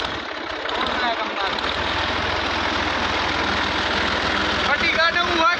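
A tractor engine runs steadily nearby, a low continuous rumbling idle with faint knocking throughout, while people talk over it.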